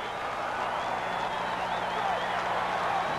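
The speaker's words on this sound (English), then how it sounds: "This crowd is still roaring over the Alabama score" A football stadium crowd at a 1980 North Carolina–Oklahoma college game roars in a steady, dense wall of cheering that holds loud and unbroken throughout.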